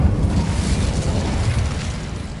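An Incendio fire spell in Hogwarts Legacy erupts with a loud, rumbling whoosh of flame that roars steadily without a break, with no talk over it.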